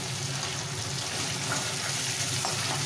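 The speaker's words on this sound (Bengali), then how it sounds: "চিকেন ভাজা হতে হতেই ওই মশলাটার সাথে চিকেনটা ভাজা করে নেব।" Chicken fries with onion-garlic paste in a pan, a continuous moderate sizzle and bubbling hiss holding steady throughout, with faint stirring and no voices.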